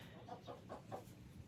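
Chickens cluck in their coop on a freezing cold day, a soft, quick run of four or five close clucks followed by quieter fowl murmuring, with no talk.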